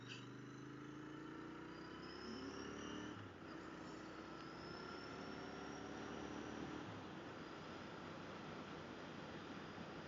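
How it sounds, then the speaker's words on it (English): A Royal Enfield GT Continental 650 with an 865 S&S big bore kit and a quiet, mellow exhaust, riding steadily, engine drone rising and shifting pitch amid wind rush, continuous and fairly faint. "a nice, quiet, mellow exhaust"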